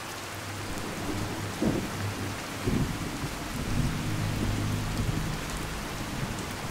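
Heavy rain pours in the Fallout 4 video game, with a steady dense hiss and a couple of low thunder rumbles rolling in the distance. No voices are heard.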